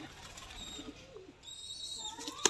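Pigeons at a breeder's loft cooing softly in short low calls, fairly faint against quiet background noise, with a brief sharp click near the end and no talk.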